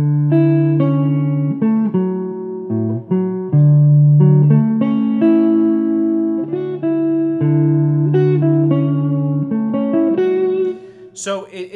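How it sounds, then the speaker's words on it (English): A clean electric guitar plays a smooth legato major 9 arpeggio over D, with flowing sustained notes close and clear, ending with a brief scrape of string noise. "this is more of a major 9 arpeggio"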